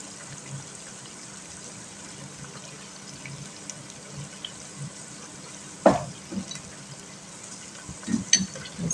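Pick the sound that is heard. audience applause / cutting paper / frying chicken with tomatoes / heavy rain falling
frying chicken with tomatoes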